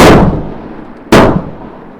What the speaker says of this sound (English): next up is a string of 3 shots in 30 seconds